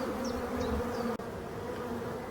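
A dense, steady hum from a swarm of honeybees clustered on the side of a forest hive, close and continuous, with individual bees buzzing past.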